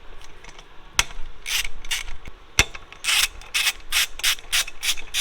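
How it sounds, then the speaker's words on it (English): A hand ratchet loosening 10 mm bolts on a Honda Civic Type R clicks in short bursts of rapid ratcheting, interrupted by a couple of sharp metallic knocks, close and fairly quiet. "All ratchets, all by hand."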